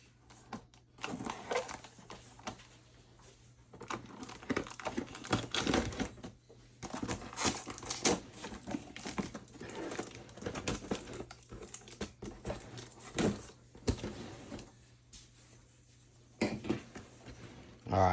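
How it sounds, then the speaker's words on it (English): Taped cardboard packaging of a Technodrome toy box being cut open, giving faint, irregular crinkling, scraping and tapping noises in short bursts with quiet gaps between them. "Let's go ahead and cut this out."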